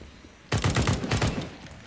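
Automatic gunfire in Counter-Strike: Global Offensive: a loud rapid burst of about a dozen shots in quick succession that starts suddenly and fades out within about a second and a half.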